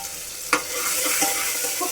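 Tomato sautéing in a pan with turmeric, homemade masala and a little red chili for a soft khichdi, giving a steady close sizzle with light stirring scrapes and one sharp clink near the start.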